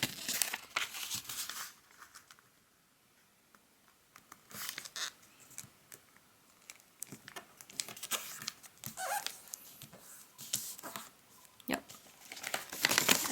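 Colored origami paper is folded into an egg shape, giving close, soft crinkling and rustling that comes in irregular bursts, with a brief quiet stretch partway through.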